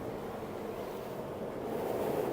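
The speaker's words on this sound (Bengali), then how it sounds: "আপনারা নিশ্চয়ই বাতাসের যে শব্দ সেটা শুনতে পাচ্ছেন" Howling wind of a storm at sea at night, heard from a ship in rain, a continuous dense rush that swells slightly louder toward the end, with no voices.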